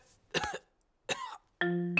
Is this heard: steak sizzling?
no